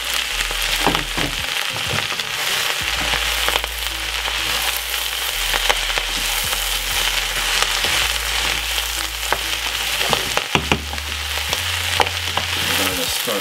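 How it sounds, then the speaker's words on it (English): Garlic and leftover vegetables stir-fry in a hot pan with a loud, dense, continuous sizzle and crackle. Scattered pops and utensil scrapes run throughout, close up and with no voices. "We're going to stir fry it off."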